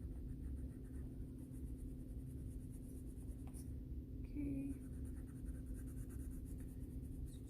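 A colored pencil fills in small spots on paper, soft faint scratching strokes against a steady low room rumble, with a brief tonal click midway.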